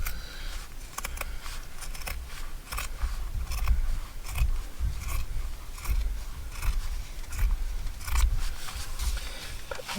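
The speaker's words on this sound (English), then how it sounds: "this side we can trim a little." Scissors snip through paper scraps in a steady series of close, crisp cuts, with brief pauses between strokes while ephemera pieces are trimmed at a craft table.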